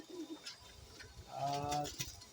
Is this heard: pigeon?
yes